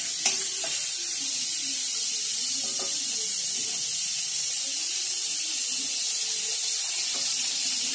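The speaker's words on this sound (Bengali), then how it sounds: "এই গরম তেলে আমি এলাচটা দেব। তারপরে দারচিনি আর এলাচটা দেব।" Cardamom and cinnamon dropped into hot oil give a steady, even hiss of sizzling throughout, with faint clinks and stirring noises scattered over the frying.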